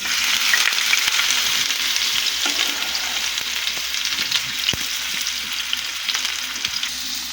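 Steady, loud sizzling of five kinds of vegetables frying in oil in a wok for bhaji, with occasional light stirring clicks, continuous throughout.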